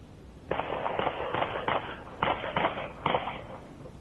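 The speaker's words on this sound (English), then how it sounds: "The sound of multiple gunshots and a car speeding away posted to social media." A rapid series of sharp cracking gunshots, several in quick bursts, over a low rumbling background as a car speeds away in a residential neighborhood.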